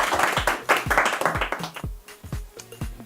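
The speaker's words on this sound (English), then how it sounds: "Can you give her a round of applause?" Scattered clapping from a small audience at a corporate summer garden party, individual claps distinct and uneven, fading after about two seconds into a few sparse claps.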